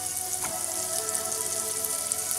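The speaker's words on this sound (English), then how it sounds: "in my preheated pot, I'm going to add butter and the onions go in as well" Onions sizzle in butter in a preheated pot, a steady bright crackling hiss that runs without a break, with one faint clink near the start.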